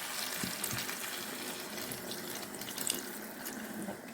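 Water poured into a pot for cooking peas, a steady splashing and trickling pour that runs the whole time, fairly close and alone without talk.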